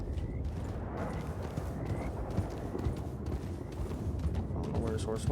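A horse's hooves clip-clop over ground in the RedM video game, steady near hoofbeats with a brief whinny, while people talk over the top.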